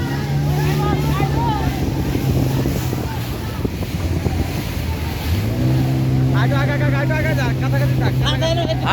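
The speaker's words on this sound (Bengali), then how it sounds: "এই সামনে কিন্তু নৌকা আছে" Boat out on the river at the Manikganj nouka baich race, a loud steady engine-like drone under heavy wind buffeting, with people talking nearby.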